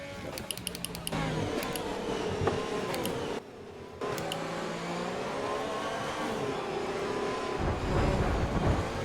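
An F1 2020 video game Formula 1 race car driving, a loud continuous high-revving engine whine with gear-shift pitch changes and brief drops, close and steady.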